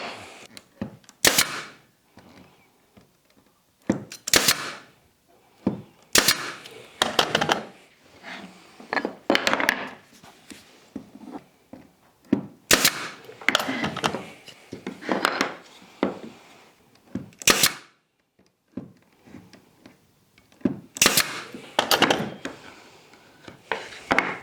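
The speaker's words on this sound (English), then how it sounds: "I am just going to be using brad nails." A brad nailer fires nails into wooden pieces for a Christmas tree and star decoration, sharp close pops in irregular clusters of two or three, separated by short pauses with faint handling of wood between shots.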